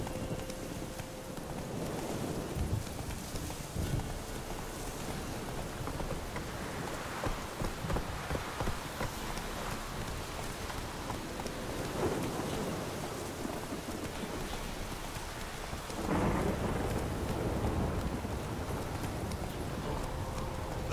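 Roach the horse gallops in The Witcher 3 as rapid hoofbeats pound on, mixed with steady rain and rolls of thunder throughout.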